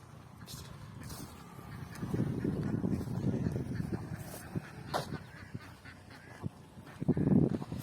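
Ducks beside Vellayani Lake give a run of honking, nasal quacks of moderate loudness, swelling in bursts and ending in a louder cluster, with faint outdoor ambience beneath.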